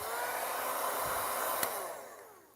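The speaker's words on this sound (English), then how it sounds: "Heat gun." A heat gun blows hot air in a steady, fairly faint whooshing roar close by. It tails off toward the end.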